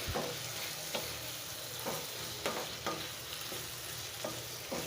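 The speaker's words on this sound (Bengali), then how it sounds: "দিয়ে দিব সেই পটল টমেটো সাথে একটু বেগুন দেওয়া আছে দিয়ে ভালোভাবে সবজিটাকে কষিয়ে নেব" Pointed gourd, tomato and eggplant sautéing in a pan, a continuous soft sizzle broken by regular scraping stirs of a spatula every second or so.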